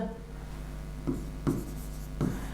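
Pen or chalk scratching on a board during a maths class, a few short rubbing strokes close up under a steady electrical hum.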